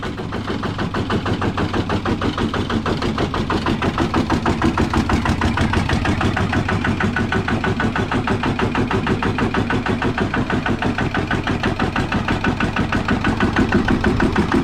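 A chugging Thai rice-field tractor engine idles steadily through a loud aftermarket racing exhaust pipe, a continuous rapid pulsing rumble close by with no talking.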